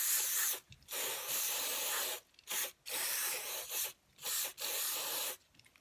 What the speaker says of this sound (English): Carb cleaner.